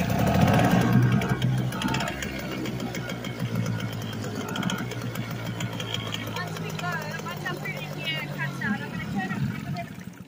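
A dinghy outboard engine, smoking heavily and prone to cutting out after a few seconds, runs with a steady low chug throughout while someone talks over it close by.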